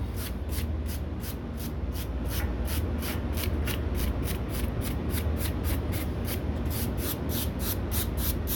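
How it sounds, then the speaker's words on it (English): Air conditioner coils being cleaned by hand, a rapid, regular brushing rasp repeating about twice per second, close and continuous over a low steady hum, without any voices. "so I'm about to clean the coils the old-fashioned way"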